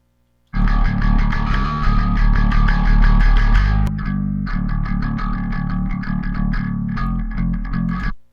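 Electric bass run through the Duality Bass Studio plugin, with an Ampeg 118 cabinet and Sennheiser 421 mic simulation, plays a dense, continuous driven line. It is loud and steady, with a brief break midway as the setting switches.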